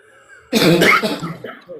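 A single sharp cough close up, loud and sudden after a quiet moment, followed by a brief rasp as it trails off.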